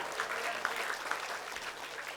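Studio audience applause for a performing group on a comedy variety show, a steady wash of clapping heard alone for its whole short length.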